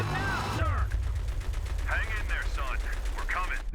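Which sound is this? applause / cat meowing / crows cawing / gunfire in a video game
gunfire in a video game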